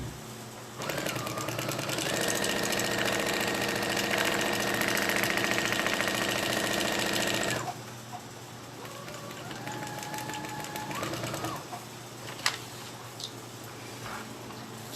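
A sewing machine stitches a seam straight across the fabric in two close, steady runs of rapid mechanical whirring, the first longer and louder, the second softer, with a brief pause between them.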